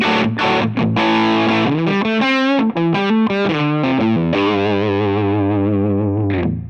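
Bright, high-gain distorted electric guitar through a Tonex pedal with its bright switch engaged, playing loud sustained chords and single-note lines with strong harmonics, alone and without talk.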